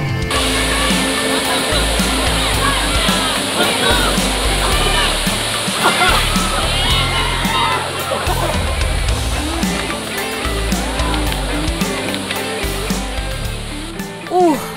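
Waterfall pours and splashes continuously, loud and close, filling the scene as a rushing wash with people talking over it.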